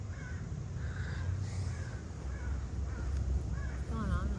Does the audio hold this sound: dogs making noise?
no